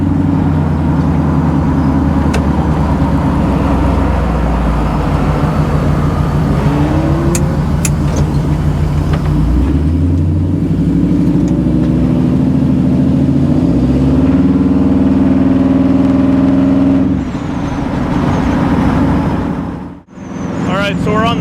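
A 1957 Chevy's engine hums and drones while the car drives along a road on a long trip, with low rumble and rising, falling pitch as it shifts and accelerates, loud and close throughout before briefly easing near the end.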